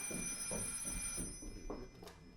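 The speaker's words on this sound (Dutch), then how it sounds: "Oh nee, de telefoon." A telephone bell rings in repeated, evenly spaced pulses during an amateur Dutch stage play, heard at moderate level over a steady background hum with no speech.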